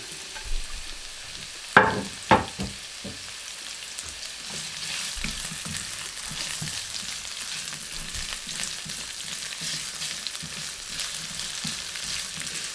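Onion stir-frying in a wok, a steady low sizzle running throughout, broken early by a few sharp clanks of the spatula against the pan.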